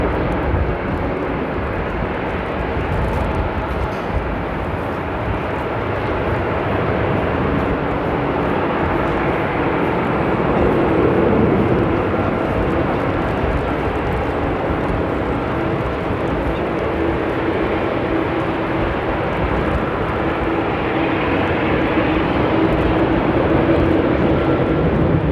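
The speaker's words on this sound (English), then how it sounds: "Takeoff here by the Little Nugget from KLM City Hopper." A KLM Cityhopper airliner takes off at Amsterdam airport, its steady jet roar holding loud and broad for the whole stretch and swelling slightly midway, with no voices over it.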